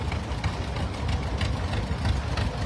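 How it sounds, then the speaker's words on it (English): A John Deere two-cylinder tractor engine running at a tractor parade during a classic tractor reunion in West Bend, Wisconsin, a steady low rumbling beat that is fairly loud and close, with no voices over it. "Is the sound of the John Deere unique to the model or the brand altogether?"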